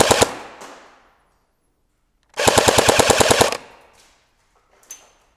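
Magpul PDR-C airsoft gun on a 7.4 volt LiPo fires a short full-auto burst, a rapid even stream of close, sharp cracks lasting about a second, with echoing single shots fading around it.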